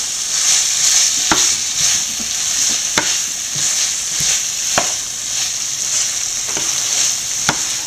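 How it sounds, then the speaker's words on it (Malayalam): Beef with garam masala, bay leaf and curry leaves stir-fried on a high flame for a Kuttanad-style beef fry, a loud constant sizzle with regular sharp spatula knocks against the pan every second or so, close up. "നല്ലപോലെ പുലന്ന് വരുന്നിടം വരെ നല്ല ഫ്ലെയിമിൽ ഇളക്കി കൊടുത്തുകൊണ്ടിരിക്കുക"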